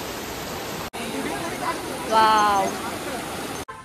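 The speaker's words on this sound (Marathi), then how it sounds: "हे बघ इकडे पाण्याचा फोर्स किती आहे" A rushing monsoon stream in dense forest at Sanjay Gandhi National Park, Mumbai, gives a loud, steady broadband roar, with a short spoken exclamation over the water partway through.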